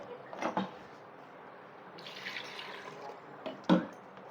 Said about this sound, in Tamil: புளியை கரைக்கிறேங்க.